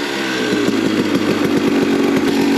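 A Honda CRF250F dirt bike engine idles high, a close, loud, steady rapid putter with an even pulsing beat.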